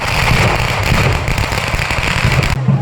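Firecrackers burst in a dense, continuous volley of loud cracks and pops at a temple festival, with the crackling running steadily throughout.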